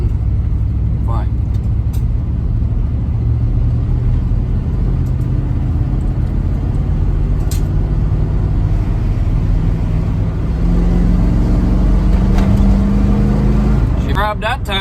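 A van drives along with a loose torque converter, heard from inside as a constant heavy engine and road rumble with pitch shifts as it works through the gears, plus a few brief rattles and clicks.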